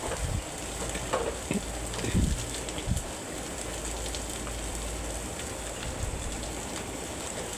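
Continuous sizzling crackle of ground spices, including chili powder and roasted cumin, frying in a hot pan, with a few sharper pops and scrapes early on.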